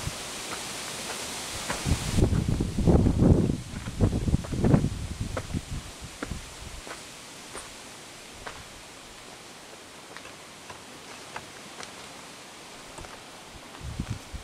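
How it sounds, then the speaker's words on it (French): Wind gusting outdoors at a scenic viewpoint, loud buffeting rushes against the microphone in the first seconds, then easing into a softer, steady blustery hiss with scattered clicks. "Ouh, il y a du vent."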